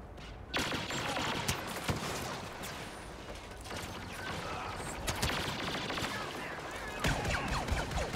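Blaster cannon fire in the Star Control space combat game, a dense run of rapid electronic shots and clattering blasts throughout, loud and continuous with no voice over it.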